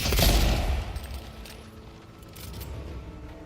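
Gunfire in the fantasy action game Avowed, a loud opening burst of shots followed by a stretch of quieter scattered reports and rumbling combat noise.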